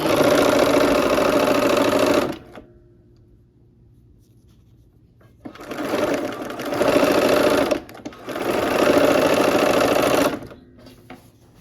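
A sewing machine stitches barn quilt pieces in three loud bursts of fast, even whirring, separated by brief quiet pauses.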